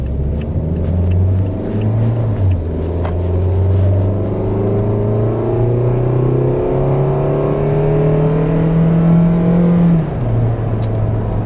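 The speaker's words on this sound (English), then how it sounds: "The engine kind of makes a ton of noise, but not much happens" Loud, steady engine drone from a 2017 Toyota Yaris while driving, the pitch climbing and shifting as it accelerates through gears, with a drop near the end, continuous and close with no talking.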